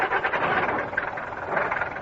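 A taxi's engine runs in a steady, even rumble that holds at a constant level throughout, with no voices over it.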